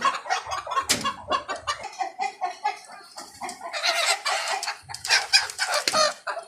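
Colombian Brahma and other fancy chickens cluck in a farm cage, a busy close run of short clucks and calls overlapping one another, with no voice over them.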